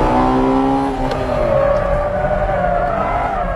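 2001 Honda Integra Type R, the highest-mileage of three cars, accelerating during a power check; a loud engine whine rises in pitch as it revs up and holds, close by.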